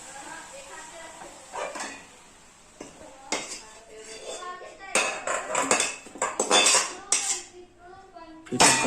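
A metal spoon scrapes and clinks against a kadhai while cooked mustard greens with tomato are moved into another vessel, giving irregular sharp clatters and taps at close range, with quieter rustling between strikes.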